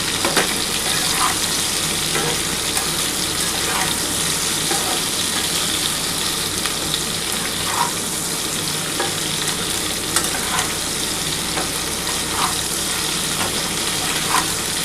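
Vegetables being stirred with salt in a frying pan for Bengali shukto, a steady sizzle and frying hiss running throughout, with regular soft scrapes of the spoon against the pan.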